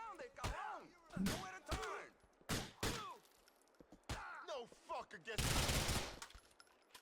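Bursts of gunfire in GTA IV crack out between stretches of talk, with a sustained rattling volley near the end, loud and close like game shooting.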